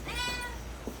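A person imitates a cat with a drawn-out, high-pitched meow during a casual livestream, close to the microphone, a single clear call with faint room noise around it.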